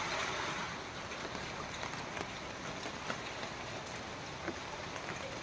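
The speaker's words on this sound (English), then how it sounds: "lots of windy, and it's raining too" Rain falls with gusty wind on an overcast day in a flower and vegetable garden, a steady, even wash of close hiss with no speech.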